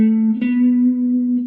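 Blues guitar lick resolving to the root, heard as a single sustained note with a brief pick attack partway through, ringing clearly and close with no talk.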